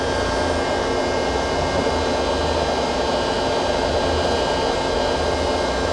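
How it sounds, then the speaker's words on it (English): The sub spindle of a Citizen L-20 Type VII Swiss-type CNC lathe spins at 1500 RPM with a smooth, steady whirring hum. The sound stays even and constant throughout, with no breaks. "That's your sub spindle, 1500 RPM."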